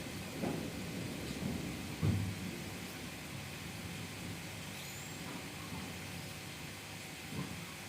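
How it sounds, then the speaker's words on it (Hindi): Steady rain falls outside with low, distant rumbles of thunder rolling in several times, one stronger rumble near the middle, faint and continuous with no talking. "बाहर हो रही है जी बारिश"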